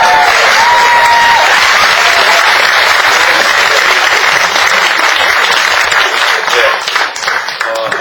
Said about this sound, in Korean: 여러분 뜨거운 박수